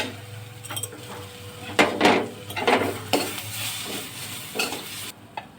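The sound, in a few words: spices and ginger-garlic paste frying and being stirred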